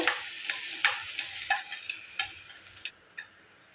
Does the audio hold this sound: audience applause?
no